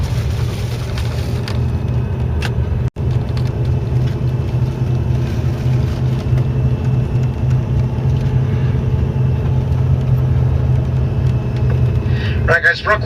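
A car drives across the Hoover Dam bypass bridge, its engine and road noise making a steady, loud low rumble throughout, with a brief sharp knock near the start and some faint talk underneath.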